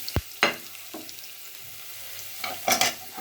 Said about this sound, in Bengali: আদা কুচি, রসুন কুচি, ভালো করে ভেজে নেব।